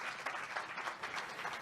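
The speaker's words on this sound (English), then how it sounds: "Please give a big round of applause to Manish and Devji." Brief, faint applause from the audience at the groundbreaking ceremony of the Eternal Gandhi Museum in Houston, welcoming Manish and Devji to the podium: soft, distant crowd clapping with a slightly uneven swell.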